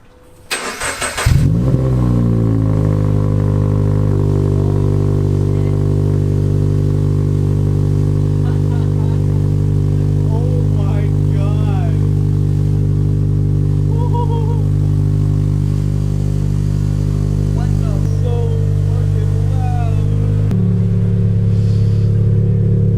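A Subaru BRZ fitted with a single exit exhaust cranks and fires up, then settles into a loud, steady idle with a drone, a few light revs and a drop near the end.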